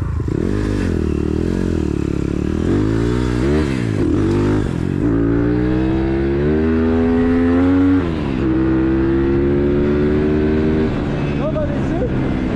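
Engine of an off-road motorcycle, a CRZ 140 or Bastos MXF 150 being tuned, idling in neutral with a rich mixture, its pitch wavering and rising in several blips close up, no talking.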